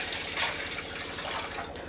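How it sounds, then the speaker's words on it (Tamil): Water being poured into a cooking pan, about one litre, for making a rasamalai sugar syrup; a steady splashing, gurgling pour heard up close, continuous for the whole moment with no talk. "அதில் ஒரு லிட்டர் தண்ணியை ஊற்றுவோம்."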